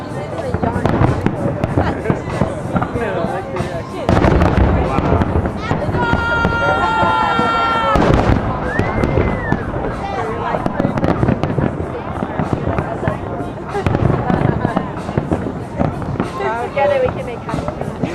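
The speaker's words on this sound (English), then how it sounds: "You can sit here and be like, that's fucking fireworks." Macy's 4th of July fireworks display in 2010, with dense booming bursts and crackling pops going off continuously, a whistling rocket rising midway, and a crowd talking and cheering throughout.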